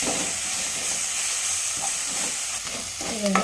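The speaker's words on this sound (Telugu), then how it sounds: "అల్లం వెల్లుల్లి పేస్ట్ వేస్తున్నాం ఈ పచ్చి వాసన పోయే వరకు ఫ్రై చేసుకోవాలి" Ginger garlic paste sizzles steadily in a pan for mutton curry, a continuous close frying hiss with light stirring scrapes and a brief clatter near the end.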